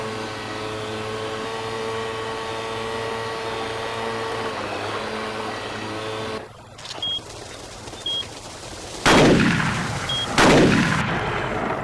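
Two sharp rifle shots ring out in the Cabela's Alaskan Adventures hunting game, a few seconds apart, loud and followed by brief decaying echoes over steady game ambience and faint beeps.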